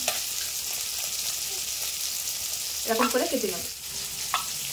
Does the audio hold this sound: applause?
no